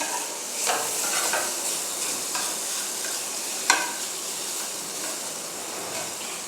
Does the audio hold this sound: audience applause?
no